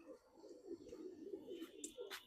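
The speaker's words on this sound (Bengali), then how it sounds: "এদিকে সব পরকাটা কবুতর।" Pigeons with clipped flight feathers, kept as home-raised breeders, give soft continuous cooing close by, with a few brief higher chirps near the end.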